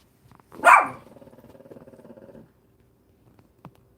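A single close dog bark followed by a low rumbling growl lasting about two seconds, then a brief faint yip, in an otherwise quiet indoor room.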